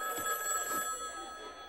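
A telephone bell rings in The Little Lulu Show cartoon, one bright, trilling ring that starts at once and fades over under two seconds, fairly faint behind the cartoon's soundtrack.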